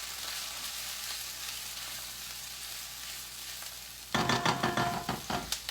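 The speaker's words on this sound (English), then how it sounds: "So we're just going to saute this in there for just a minute, just to get that garlic really fragrant" Garlic sautéing in a pan for sweet and sour chicken, a soft steady sizzle that turns louder and choppier near the end as stirring and clattering join in.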